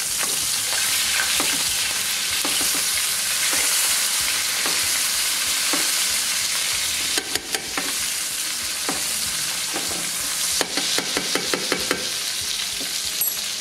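A New York strip steak fries in a pan with melted butter, giving a loud, steady sizzle throughout, punctuated by occasional clinks and scrapes of a spoon basting it, with bursts of sharper crackling.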